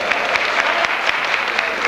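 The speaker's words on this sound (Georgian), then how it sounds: "შევხვდეთ ყველანი ქუხარი აპლოდისმენტები" A large audience gives thunderous applause for a singing sextet, dense continuous clapping close and loud, with faint voices mixed in.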